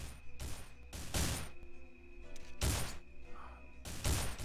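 Pistol shots fired in the video game Survivalist: Invisible Strain, four loud, sharp cracks spaced about a second apart, each trailing into a short ring-out over a low steady background hum.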